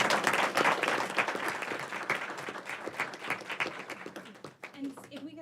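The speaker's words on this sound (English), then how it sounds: "We could give him one more round of applause." Applause at a school board of education meeting for an honored student, a roomful of people clapping steadily, strong at first and thinning toward the end, with a voice briefly heard as it dies down.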